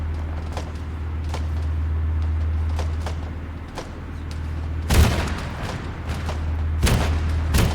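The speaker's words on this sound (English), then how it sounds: "fucking hell, that cannon made me jump" Two heavy cannon blasts in a foggy military video game, one near five seconds and another near seven, each a sharp booming burst over a steady low rumble and scattered lighter gunfire.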